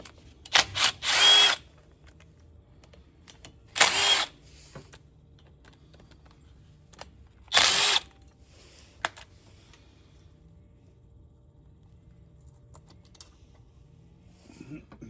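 Three loud bursts from an impact tool spinning off 27 mm Torx bolts on a 2008-2010 Ford F250 4x4 front hub, each lasting about a second, with quiet shop ambience in between.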